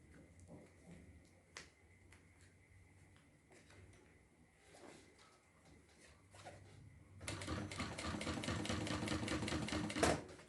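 Sewing machine running a fine 0.4 finishing stitch on a zippered notebook cover, a quiet workshop with scattered handling clicks before the motor kicks in and hums steadily, loud and close, through the final seconds.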